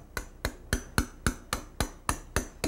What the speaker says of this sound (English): You have to hold the chisel in such a way that it grabs the stone.